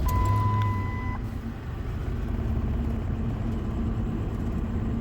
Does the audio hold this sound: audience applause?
no